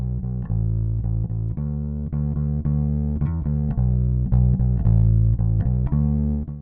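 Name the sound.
real bass guitar recorded directly into audio interface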